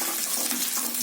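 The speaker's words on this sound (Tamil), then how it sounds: "இப்போ நல்லெண்ணெய் காய்ச்சி கடுகு உளுந்து பருப்பு, சின்ன வெங்காயம்" Mustard seeds, urad dal and small shallots frying in hot sesame oil, a dense, loud, continuous sizzle and crackle close up with no break.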